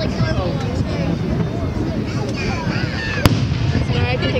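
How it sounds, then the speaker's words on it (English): Fourth of July fireworks over Saint Paul and Minneapolis, Minnesota: a steady crackling, rumbling wash of bursts with one sharp louder pop near the end, heard amid crowd chatter and people talking close by. "photos of the fireworks"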